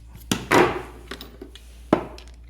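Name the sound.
3/8 inch socket clicking onto a Hyper Tough gold ratchet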